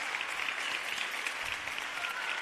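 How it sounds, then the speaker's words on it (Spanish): Audience applause for a children's choir at a Christmas carol contest, a steady dense wash of many hands clapping together at moderate distance with no voices over it. "Podéis aplaudir"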